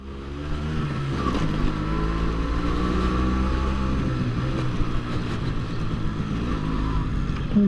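Motorcycle engine running steadily while riding on a quiet open road, a continuous close, loud drone with low harmonic bands and slight rises in revs, wind rush throughout.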